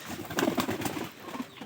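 A weak, unwell pet pigeon gives a few soft, low coos close by, quiet and murmuring against a still background.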